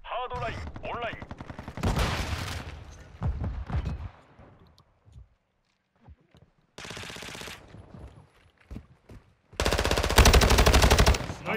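Call of Duty: Modern Warfare II gameplay with loud automatic gunfire coming in sustained bursts, broken by near-silent gaps, plus short in-game voice callouts and tones in between.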